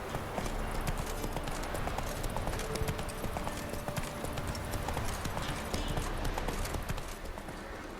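Roach, a horse in The Witcher 3, trots steadily with close, loud, rhythmic hoof clops throughout, a faint voice briefly underneath.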